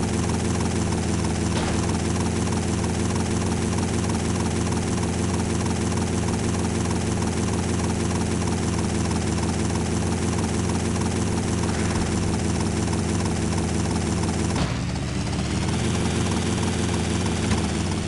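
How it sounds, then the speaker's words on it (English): A helicopter in the video game GTA Vice City drones loudly and continuously, its rotor chop and engine whine steady throughout, with a brief shift in tone near the end. "Helicopter."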